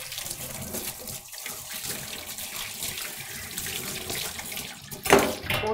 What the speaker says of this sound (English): I'm going to rinse this knife and my hands immediately.